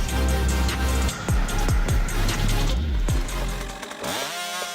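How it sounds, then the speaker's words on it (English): A B660 chainsaw machine bites through large logs, its loud engine whining steadily with repeated revving dips and surges as the chain loads and frees in the wood, ending in a brief rising rev near the close. "Precision with the 99th chainsaw. The B660 Beast demonstrates its superiority with its incredible cutting ability, handling large woods with ease."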